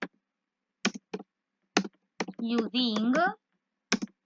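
Keys clacking on a computer keyboard in a few separate taps and quick pairs, close and crisp, with a brief spoken phrase in the middle.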